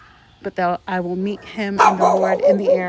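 Dogs bark and yip loudly nearby, a few sharp barks and then a busier stretch of yapping, overlapping a person speaking.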